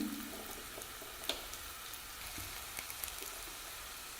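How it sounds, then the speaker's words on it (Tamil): Indian gooseberries sauté in a pan for chutney, giving a soft, steady sizzle with a few faint clicks and stirring taps, quiet and close with no talking. "நெல்லிக்காய் நல்லா வதங்கிடுச்சுங்க"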